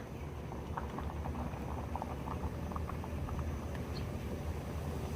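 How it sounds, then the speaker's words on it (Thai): Banana pieces simmering in coconut milk sweetened with stevia sugar, a soft continuous bubbling with small pops and patter from a nearby pot, steady and fairly quiet throughout. "เคี่ยวต่อไปเลยค่ะ"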